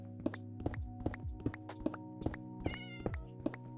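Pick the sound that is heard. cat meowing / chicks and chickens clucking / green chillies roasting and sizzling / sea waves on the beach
cat meowing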